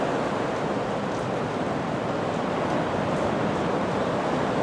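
Sea water washes in and out on a shore as a steady, dense roar of surf, loud and continuous with no distinct breaks between waves.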